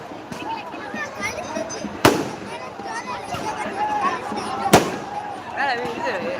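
Two sharp, loud firecracker bangs ring out a few seconds apart amid a busy crowd of chattering voices at the Thayanur village festival in Tamil Nadu.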